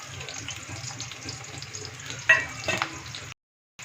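Onion dropped into hot oil fries with a steady close sizzle, a brief louder splash of crackling midway, then cuts to silence.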